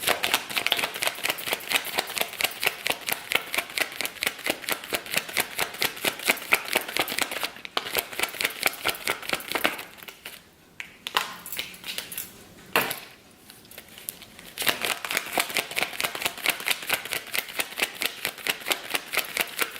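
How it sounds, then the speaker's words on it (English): Rapid, rhythmic riffling of tarot cards being shuffled close up, repeated in bursts with a brief softer pause of handling in the middle. "I feel like the shuffling is such a soothing sound."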